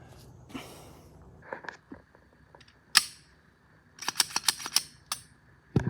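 An empty Glock 19 pistol dry-fired, sharp metallic trigger clicks and slide clacks spaced irregularly, then a quick cluster of handling clicks, close and quiet with no speech.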